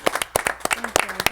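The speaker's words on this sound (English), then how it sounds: "Can we get a round of applause?" Audience applause for Jasmine Star at a wedding photography workshop in Seattle: a short burst of scattered, uneven claps, fairly close, with a faint voice murmuring underneath.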